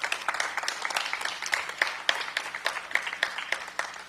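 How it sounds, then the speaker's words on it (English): Scattered outdoor applause from a modest crowd at a housing ribbon-cutting ceremony, individual sharp claps standing out in an uneven rhythm rather than a dense roar. "That deserves some applause."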